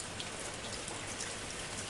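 Steady rain falling, a dense continuous hiss of drops spattering on surfaces, even and unbroken, with no voices.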